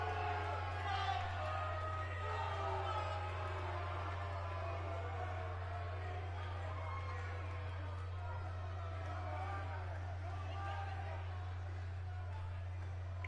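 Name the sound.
crowd cheering in WWE 2K18 video game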